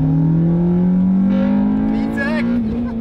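A Honda Civic Type R engine revs hard and climbs in pitch as it comes onto VTEC, loud and close from inside the car, with a steady rising tone throughout.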